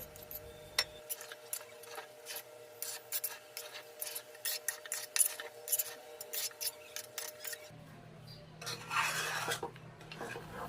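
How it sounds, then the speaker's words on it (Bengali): Beef pieces with oil and spices being stirred in a pot for Bangladeshi beef tehari, giving repeated scraping, rasping strokes of a utensil against the metal, steady and close with no talking. "মাংসটা দিয়ে ভালোভাবে নাড়াচাড়া করে আমি চাপ দিয়ে এখন বসিয়ে দিচ্ছি"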